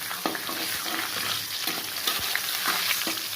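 Mustard seeds, fenugreek, cumin, dried red chillies, asafoetida and split toor dal sizzling in hot oil for a tempering, with steady crackling and scattered pops and sharp spits throughout, close and fairly loud, with no talking.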